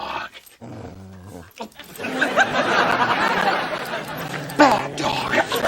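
A dog growls close by in a low, rumbling run, then a burst of chattering, snickering noise follows and mixes with the growl, with a person speaking briefly at the start.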